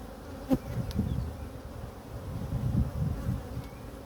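Steady low insect buzzing from a mass of honeybees at a hive, fairly quiet and continuous, with a few slightly louder passes close by.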